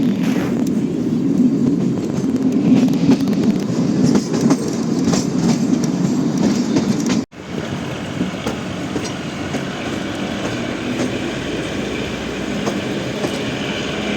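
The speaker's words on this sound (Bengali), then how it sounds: "সেই স্টেশনটা ক্রস করছে ট্রেনটা।" The Shivalik Express toy train on the Shimla line rumbles steadily with a loud low roar and faint clickety-clack as it passes through a station, cut by a sudden brief dropout midway before the rolling noise resumes.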